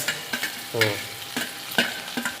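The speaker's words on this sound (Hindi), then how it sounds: "जैसे कि हमने भी इसको 2 मिनट भून लिया है, इसको अदरक और लहसुन को, अभी हम इसमें मिर्ची ऐड कर देंगे।" Ginger and garlic frying with chilies in a karahi, close spatula scrapes and clanks in an irregular rhythm over a light sizzle.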